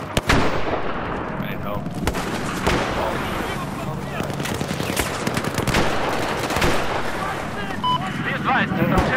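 Dense gunfire rattles across the Golmud Railway map in Battlefield 4 Conquest, with machine-gun bursts and scattered shots going nonstop, loud and near, while someone speaks over the fighting.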